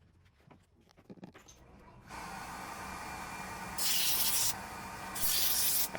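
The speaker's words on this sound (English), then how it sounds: "this was all sanded from 120 grit all the way through to 320 grit" Sandpaper from 120 to 320 grit works a turned mahogany ogee bowl, a loud continuous rushing rasp that starts after a quiet opening and swells louder in two stretches.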